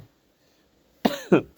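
A man coughs twice in quick succession, sharp close bursts that stand alone against near silence.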